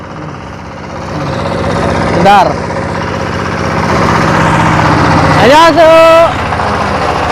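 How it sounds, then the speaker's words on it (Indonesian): A tractor engine runs at a steady idle close by in Korea, a low rumbling chug that swells twice as it revs, with a person speaking briefly over it. "Ini namanya traktor."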